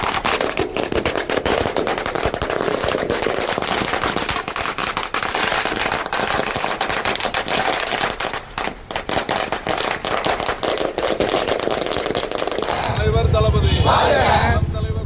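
DMK party supporters set off firecrackers at a street celebration in Tamil Nadu. Dense, loud, rapid crackling bursts run almost without a break for most of the clip, then fade into a lower murmur near the end.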